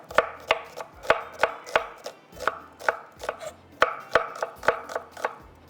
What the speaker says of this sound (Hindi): चलिए जी, प्याज हमने कटिंग कर ली।